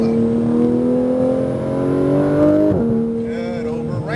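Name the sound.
car accelerating on a driving course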